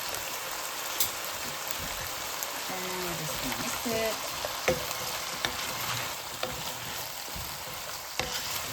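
Onions frying in a pan with butter or oil, giving a steady close sizzle with occasional stirring clinks, and a voice talking briefly over it.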